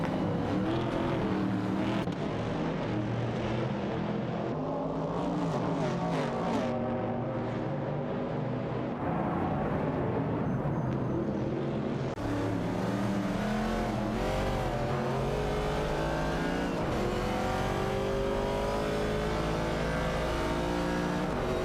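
Race car engines from an AI racing video game, including a Ford Falcon and other American muscle cars, drone and whine continuously in a dense overlapping pack, shifting pitch as they accelerate, steady and moderately loud throughout.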